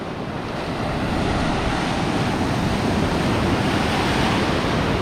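Steady roar of stormy sea surf washing onto a beach in Ordzhonikidze, Crimea, continuous and fairly loud, with wind rushing across the microphone.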